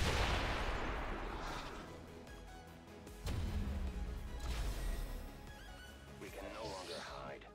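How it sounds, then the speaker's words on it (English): Explosions from the turn-based strategy game XCOM, a double blast with crashing booms on Legendary Ironman difficulty, loud and close, the second burst hitting a few seconds after the first, with game sounds and speech-like noise throughout. "And we're going to do a bit of a double explosion."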